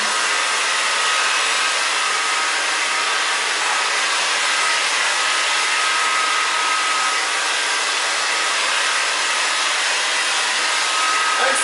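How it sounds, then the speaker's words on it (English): A handheld blow dryer runs steadily and close by on a continuous airy roar while drying a short A-line cut on thin hair, with no talking. "angle your blow dryer up a tiny bit"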